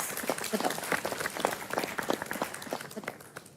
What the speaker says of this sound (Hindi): सबके लिए दिल से तालियां भाई, सबके लिए।